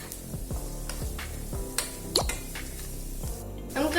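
A spoon stirring spices, curry leaves and pepper powder for egg masala in a pan, a series of soft rhythmic scrapes and clinks with a faint sizzle beneath.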